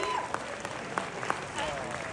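Dense applause from an audience at a Griselda Q&A at Sunset Las Palmas Studios, cheering Sofía Vergara's walk after knee surgery. It is a steady wash of clapping that continues for the whole short stretch.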